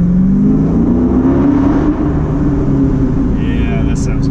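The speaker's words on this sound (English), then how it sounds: "now we're gonna do a little freeway acceleration pull." A 2015 Dodge Charger R/T Scat Pack accelerating on the freeway, its engine tone rising steadily in a loud, close drone as speed builds, with a brief chirp near the end.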